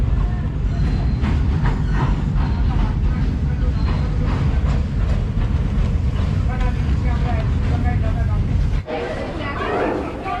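A Kolkata-to-Purulia train rumbles along the tracks with rhythmic clacking and a heavy low drone, loud and close, briefly dipping near the end; no clear talk.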